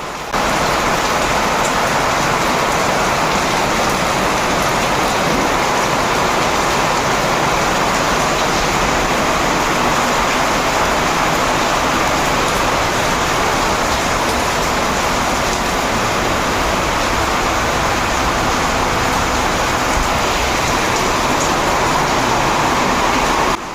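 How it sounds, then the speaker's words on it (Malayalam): Heavy monsoon rain pours steadily outside a home in Kerala, a dense, continuous hiss that stays loud and unbroken throughout, with no voices over it. "കണ്ടോ എന്തോരം ശബ്ദത്തില്ല നമ്മുടെ മഴ"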